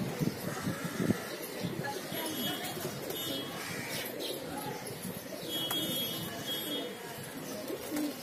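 A full-size breeding pair of rare pigeons coos in a loft, soft repeated calls mixed with chirps and background noise.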